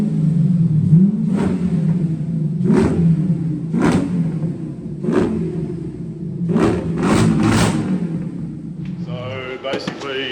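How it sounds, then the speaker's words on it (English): A supercharged Coyote-engined Nissan 370Z on a dyno holds a steady rumbling drone while sharp bursts punctuate it every second or so, close and loud, ending in a rising whine. "the Coyote powered 370Z with a supercharger on top"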